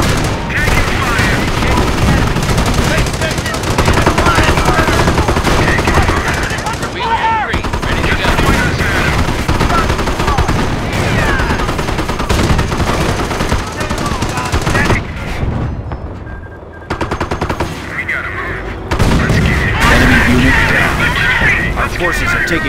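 Heavy gunfire in the World War II strategy game Company of Heroes, Montebourg mission, with sustained machine-gun bursts, rifle shots and booms under shouted soldier voices, dense and loud throughout with a brief lull.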